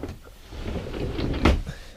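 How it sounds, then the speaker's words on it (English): A storage drawer beneath a bed in a Tokyo apartment slides on its runners and ends in a single soft thump, close and quiet. "I got drawers for my bed, under my bed at least, to put my clothes in."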